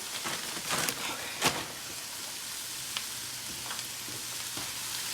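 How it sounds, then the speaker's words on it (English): An egg roll bowl mixture sizzles steadily in a frying pan with a constant crackling hiss, broken by occasional louder scrapes and clacks of a utensil stirring and turning it. "We're just gonna keep stirring it, constantly stirring it, taking what's at the bottom and shifting it to the top until it's all cooked and heat through"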